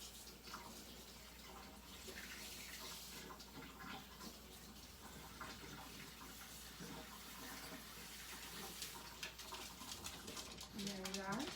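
An item is washed under running kitchen water, a faint steady stream with light clinks, the flow audible throughout at low level.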